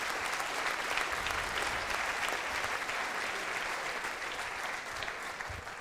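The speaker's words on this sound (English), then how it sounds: "give yourselves a round of applause" Audience at an evening event in a hotel in Bradford clapping, a dense, steady wash of applause from a large crowd that holds at even loudness throughout.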